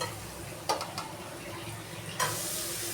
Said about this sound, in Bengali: এবার আমি চিচিঙ্গাগুলো দিয়ে দেবো